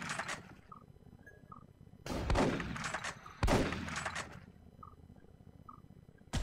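Turret gunfire in the sci-fi video game Space Beast Terror Fright: two loud, sustained bursts of rapid shots between quieter stretches of electronic bleeps and mechanical game noise.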